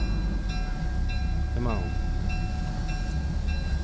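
A train idles at a depot in Georgia with a steady, loud, low rumble and a continuous mechanical drone, while someone speaks briefly over it.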